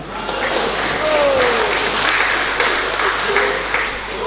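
A crowd claps steadily at a public event for a governor in Indonesia, a continuous wash of applause holding at even loudness, with some voices faintly mixed underneath.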